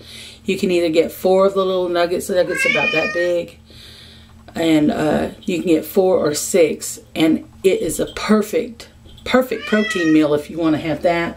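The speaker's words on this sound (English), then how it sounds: "that was my cat I let out" A pet cat meows several times, loud and close, mixed in with a person talking steadily over it.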